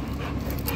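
A small dog pants close by in rapid, steady breaths that run continuously for under a second, with no speech over it.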